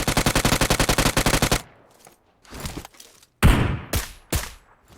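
A fast burst of about fifteen automatic shots in PUBG Mobile on the Miramar desert map rings out loud and close. Scattered single shots and thuds follow after a short gap.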